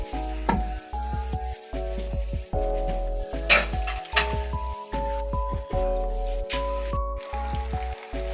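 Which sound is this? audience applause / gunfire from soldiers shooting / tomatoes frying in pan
tomatoes frying in pan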